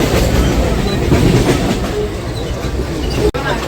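Mumbai local train running into Churchgate station, a loud, steady rumble of a crowded carriage in motion with continuous wheel-on-rail noise and a brief jolt near the end; faint voices in the background.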